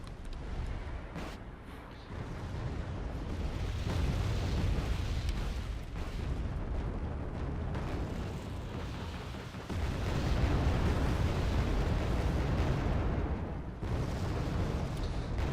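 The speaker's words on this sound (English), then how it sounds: "Artillery barrages, more reinforcements being brought up." Artillery barrages in the real-time strategy game Wargame Red Dragon roll on as a continuous wash of booming, rumbling detonations, swelling louder partway through and heard mostly on their own.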